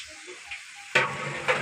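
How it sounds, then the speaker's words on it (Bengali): Blended onion frying in a pot: a quiet background sizzle bursts into a loud, close hiss partway through, with a second surge near the end as it is stirred. "প্রথমে আমরা পেঁয়াজটাকে ভেজে নেব, মোটামুটি 5-6 মিনিটের জন্য পেঁয়াজটা ভেজে নেব।"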